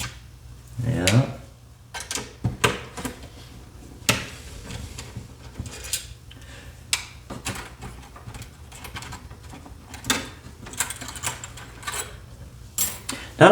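Small Phillips screws being backed out of a computer system's casing with a screwdriver: scattered close clicks and light metallic ticks at an uneven pace, with soft handling noises between them.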